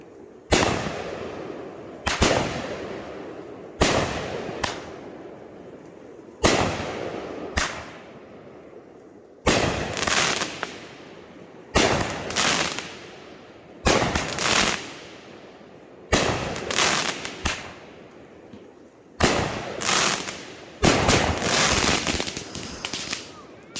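A Winda Strong Man 16-shot firework cake fires a run of sharp, loud cracking bursts in irregular clusters, each report followed by a brief crackling decay and pauses between volleys.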